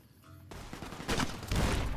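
Gunfire in Fallout New Vegas, a string of rapid shots that grows louder partway through and hits hardest near the end, clustered like a fusillade.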